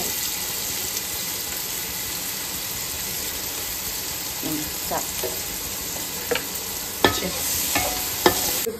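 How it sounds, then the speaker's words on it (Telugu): Thinly sliced onions salted and frying in a pan for Hyderabadi haleem give a continuous close sizzle, with a few clinks and scrapes of stirring in the later seconds and no voices. "సో ఉల్లిపాయలు వేగాలి అని చెప్పి కొద్దిగా ఉప్పు వేస్తాం"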